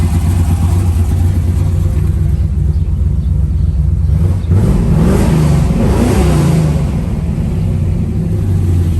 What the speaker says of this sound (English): Let me give it a little gas.